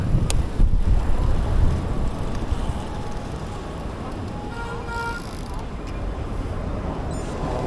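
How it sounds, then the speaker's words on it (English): Wind buffets the microphone of a cyclist riding a Kona hardtail on a road, a continuous low roaring rumble with gusty surges and passing traffic faintly underneath. "Yeah, very windy"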